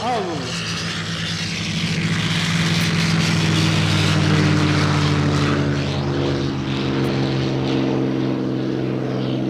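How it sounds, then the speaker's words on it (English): Four North American P-51 Mustang propeller fighters, led by a Razorback P-51, take off at an airshow: a loud, throbbing piston-engine drone with layered harmonic tones that builds and holds, nearby and steady, under a crowd-like wash. "here they come, ladies and gentlemen, North American P-51 Mustangs, all four heading to the skies now"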